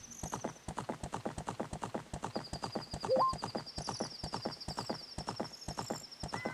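Rapid, rhythmic hoofbeats of the horse Epona galloping in a video game, steady and close, with a brief whinny midway and faint game chimes in the background.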